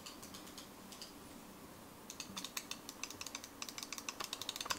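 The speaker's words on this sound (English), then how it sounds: "You can hear the button clicks." Sharp button clicks from a Razer Viper gaming mouse, sparse at first and then a quicker run of crisp clicks, close up over a faint background hiss.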